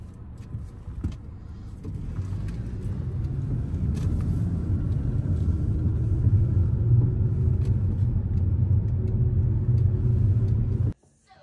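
A car's low, steady road rumble fills the cabin while driving over a bumpy road, holding loud and continuous for about eleven seconds before cutting off abruptly.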